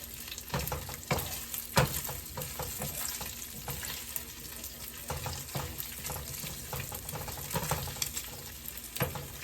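Bacon frying in a pan gives a constant crackling sizzle, with intermittent clinks and scraping knocks of a utensil stirring or turning the strips, and a running-water hiss mixed in.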